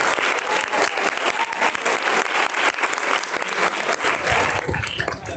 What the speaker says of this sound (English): Can you all give a big round of applause to the Carols and the audience?